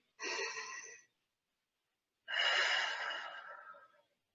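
A group takes a slow, deep breath together during a guided remembrance exercise, two long airy breaths, first a shorter one and then a fuller, longer one after a pause, close and soft with no talking.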